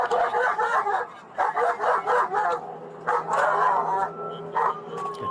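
Police dog in a cop video game barking in repeated bursts of yapping and bow-wows, fairly close and loud, with brief pauses between volleys amid game background sound.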